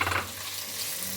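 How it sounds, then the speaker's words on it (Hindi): Bite-sized chicken pieces fry in a pan with oil, a continuous close sizzle with a brief stirring scrape at the start, no voices. "अब हमने चिकन डाल के इसको फ्राई करना है।"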